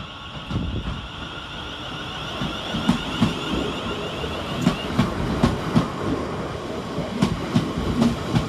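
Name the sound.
electric passenger train departing station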